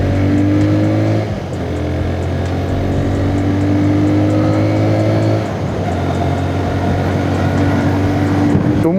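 A TVS Raider 125cc motorcycle in power mode accelerates hard, its engine note rising steadily through the gears with a brief dip at each shift, loud and close with wind rush around it.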